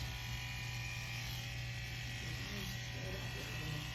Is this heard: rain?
no